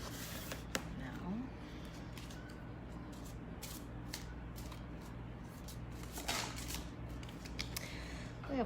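Tarot cards are shuffled by hand in a series of soft riffling flicks and papery snaps, quiet and close, with a faint room hum underneath.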